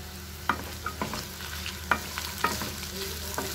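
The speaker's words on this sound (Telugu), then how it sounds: "మీడియం ఫ్లేమ్లో ఫ్రై చేసుకోవాలి" Cut potato and carrot fry in a pan over medium flame, a soft steady sizzle broken by repeated scraping knocks of a spatula, close and fairly quiet with no voices.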